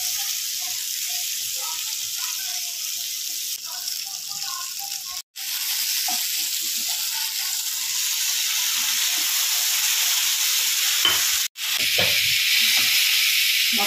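Loitta (Bombay duck) fish frying in oil sizzles and hisses steadily and loudly, with two brief drop-outs and light stirring sounds underneath.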